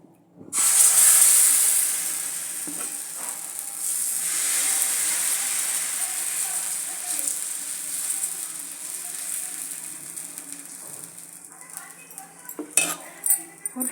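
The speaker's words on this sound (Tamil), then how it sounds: "இப்போ நம்ம இதை தோசைக்கல்லில் போட்டுடலாம்." Dosa batter poured onto a hot griddle gives a loud burst of sizzling and hissing steam that settles into a softer, continuous fry, with a few utensil clinks and scrapes near the end.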